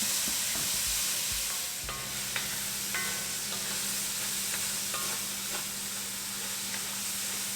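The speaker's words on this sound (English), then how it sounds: "We'll cook the tomatoes until they soften up." Tomatoes and onion fry in a pan for Goan shrimp with a continuous close sizzle, and a utensil stirs and taps the pan now and then.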